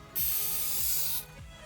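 A single sustained hiss of an aerosol spray can, about a second long, close and steady, with faint clicks in the background.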